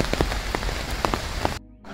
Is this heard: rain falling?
yes